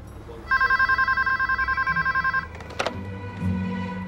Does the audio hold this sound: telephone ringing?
yes